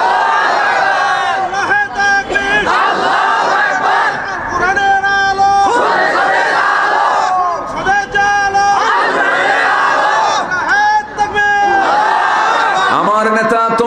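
A large crowd at an Islamic waz sermon chants slogans in loud, rhythmic unison bursts, repeating phrase after phrase in a call-and-response pattern with brief gaps between shouts.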